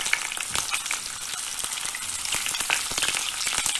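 Cauliflower frying over high heat in a hot pan, a dense steady sizzle with crackling pops and occasional stirring scrapes, close and loud with no talking.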